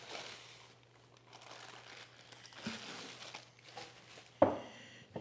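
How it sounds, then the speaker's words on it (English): Crinkling plastic bag packaging being handled and opened around a bench plane, faint rustles and crackles close by, with a louder crinkle near the end. "Open plastic bag."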